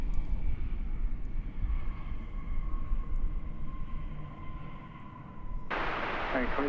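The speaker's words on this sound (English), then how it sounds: "Flight 1957 arriving from San Antonio, Texas, 737-800" A Boeing 737-800 airliner arriving at DFW Airport makes a steady, broadband jet roar with faint engine whine throughout. It eases slightly before a burst of hissy noise near the end, heard from a distance across the field.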